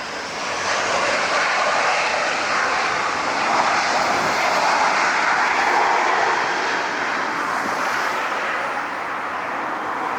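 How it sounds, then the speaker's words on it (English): An Embraer E175 jet taking off, heard from an outside spotting point as a loud, sustained broadband engine roar that holds steady for several seconds and eases slightly at the end. "There's the landing for the E175, and we're going to get the takeoff. Same aircraft."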